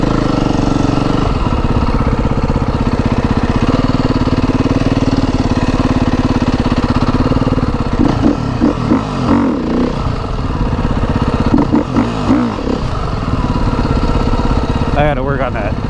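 A motorcycle engine runs steadily and close by during wheelie attempts, its drone surging and clattering in short bursts while a person talks over it.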